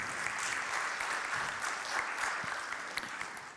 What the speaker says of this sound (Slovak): Nech sa páči potlesk.